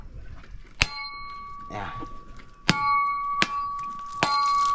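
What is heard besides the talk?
cracking open a fresh coconut with a blow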